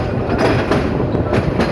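Narayanganj commuter train on the Dhaka route rolling along the rails, a loud, close, steady rumble with rhythmic clacking of wheels throughout.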